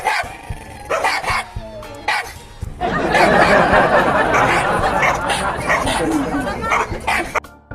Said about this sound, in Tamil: ரோட்ல நாய்ங்க ஒன்ன பார்த்து ஒன்று குலைச்சிருக்கு.